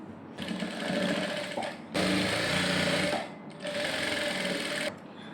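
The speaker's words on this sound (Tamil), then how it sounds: "இப்போ தையல் போட்டுக்கலாம்" Electric sewing machine stitching a princess cut blouse, running in three loud, steady near bursts separated by brief pauses, its even mechanical whir heard alone.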